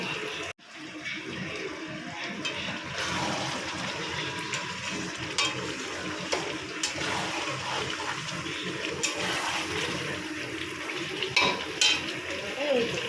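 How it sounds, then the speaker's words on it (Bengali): Water poured into meat cooking in a pan, then stirred, a sudden rush and hiss after a short pause that settles into a steady bubbling wash with scraping and knocking from the spoon, close and moderately loud. "এবারে আমি জল দিয়ে দেবো, অল্প একটু জল দেবো"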